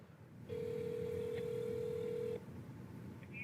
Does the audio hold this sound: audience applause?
no